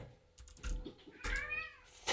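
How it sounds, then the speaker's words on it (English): A pet cat lets out a short, clear meow close by, preceded by light keyboard typing and soft clicks in a quiet room. "That's my cat."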